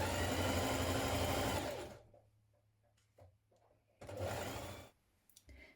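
A sewing machine stitching a 1 cm seam on a dress: a loud continuous run of rapid stitching for about two seconds, quiet handling and small clicks, then a second shorter burst and a few faint taps.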